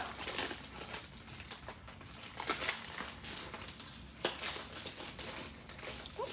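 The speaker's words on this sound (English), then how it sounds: "All right, so it's in plastic. Take all that off." Plastic wrapping is pulled off a pack of coloring supplies, producing close, steady crinkling and rustling with occasional sharper crackles, faint and without talking.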